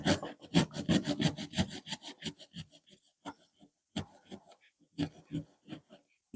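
A cork being sawn in half for a children's Christmas reindeer craft, giving a run of quick, close, rasping strokes that slow into sparser scrapes with short pauses.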